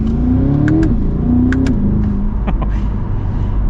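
A sports car engine revs hard and climbs through the gears, its loud roar rising in pitch with a brief shift dip, heard from inside.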